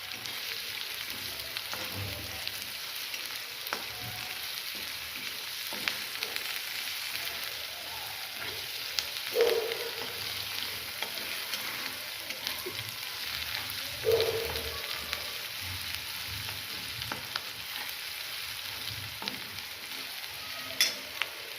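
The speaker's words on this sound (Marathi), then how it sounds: "आलं, त्याच्यानंतर लसूण आणि कढीपत्ता हे थोडे खमंग तळून परतून घेऊ" Ginger, garlic and curry leaves fry in a pan of oil for a whole masoor usal, a long steady sizzle and crackle with two brief louder pops and spatters standing out, otherwise even and unbroken.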